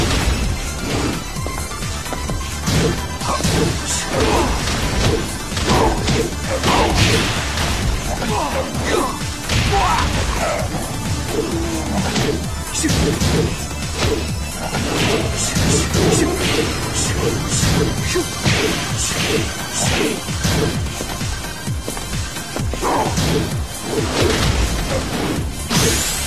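Tekken 7 fight hits during an arcade 3-on-3 tournament: rapid, dense strikes, whooshes and crashing impacts pile up loudly and continuously, with brief game announcer calls in the mix.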